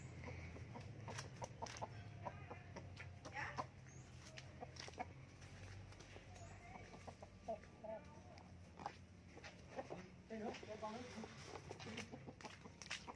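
Two rooster chickens cluck and call repeatedly in an outdoor rural setting, the bursts rising and falling at close range over a constant low background, with a few brief clucks standing out loudly near the end.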